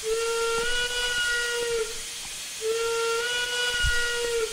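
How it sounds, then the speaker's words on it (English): A steam locomotive whistle in Train Simulator 2016 gives two long, steady, loud blasts with a short gap between them over a hissing background, and no one speaks. "here's a whistle"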